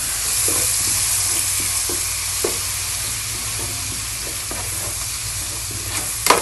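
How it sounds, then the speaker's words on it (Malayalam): Crushed onion and ginger paste frying in oil in a pan, a steady close sizzle broken by scraping stirs at irregular intervals, with a louder clatter near the end and no talk. "ഈ ചതച്ച് വെച്ച ഉള്ളി ഇഞ്ചിട്ട് പേസ്റ്റ് ഇനി ഇതൊന്ന് ഇട്ട് ഇളക്കി കൊടുക്കുക"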